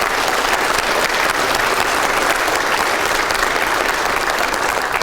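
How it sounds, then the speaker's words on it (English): Sustained audience applause fills a sheriff's office swearing-in ceremony, a loud, dense wash of clapping from a large crowd that holds steady without letting up. "please give them a big round of applause."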